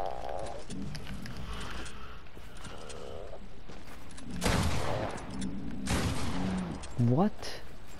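Video game gunfire in a PC shooter, short bursts of rapid shots over background game sound and music, with people talking over it.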